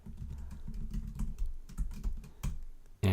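Fingers type quickly on a computer keyboard, irregular clusters of soft, close key clicks, with a louder tap at the end.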